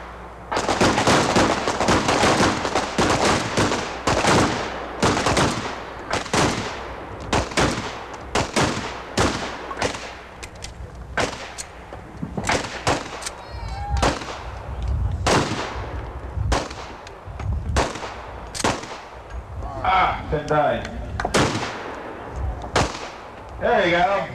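Gunfire at a 1986 combat shooting match cracks out in loud, rapid bursts of close shots, dense at first and then in irregular volleys, with a few faint voices between shots.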